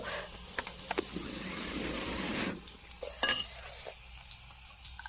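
Chili frying in hot oil in a pan, a close crackling sizzle with occasional stirring clicks and scrapes against the metal.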